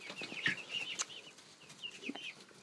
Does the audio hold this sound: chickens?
yes